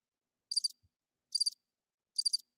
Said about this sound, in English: That's supposed to be crickets